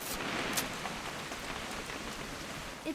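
Steady rain pattering in the video game What Remains of Edith Finch, a constant hiss of drops on surfaces throughout, with a faint brief knock near the end.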